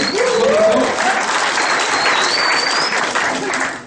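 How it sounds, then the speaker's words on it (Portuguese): A sales training audience gives Tiagão a round of applause, loud dense clapping heard close and sustained for a few seconds, with faint voices and a whistle-like tone above it. "Uma salva de palmas para o Tiagão aí."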